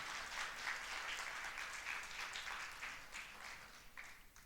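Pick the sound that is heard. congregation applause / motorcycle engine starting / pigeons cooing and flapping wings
congregation applause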